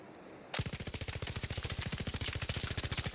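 A rifle with a muzzle brake fires a rapid automatic burst in Arc Raiders, a sharp onset followed by a steady stream of evenly spaced loud shots running about three seconds.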